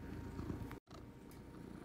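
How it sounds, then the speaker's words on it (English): A Siamese cat purring right up against the microphone, a low, steady rumbling vibration that is continuous and close, briefly cut by a short dropout, with no talk. "She is a Siamese, and they purr very loud"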